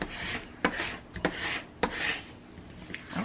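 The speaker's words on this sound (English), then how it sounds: "I'm just going to burnish this down really good" Paper being burnished down onto a glued journal page, steady close rubbing strokes with a few sharper taps between them.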